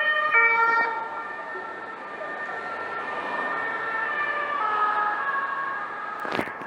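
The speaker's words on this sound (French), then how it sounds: "Deux bagnoles de flics." Wailing sirens of two police cars speeding past on a street, a steady rising and falling tone close by and loud, with a sharp knock near the end and no talking.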